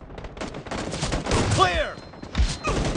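Shotgun blasts ring out in a PUBG Mobile team deathmatch as several close, sharp shots follow one another, mixed with other game sounds and voices.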